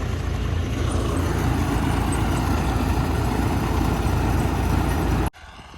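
A tractor engine idles steadily with a loud, constant low rumble that cuts off abruptly near the end.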